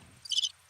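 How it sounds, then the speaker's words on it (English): A brief burst of cricket chirping played from a sound-effect button on a chat show, one short high trill, fairly quiet and alone. "Is there a button for crickets over there, DeMarcus?"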